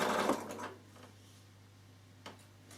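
A Bernina sewing machine top stitching with its standard presser foot on a fabric carry case: a brief fast-running burst of stitching at the start, then near quiet with a faint steady hum and a small click later.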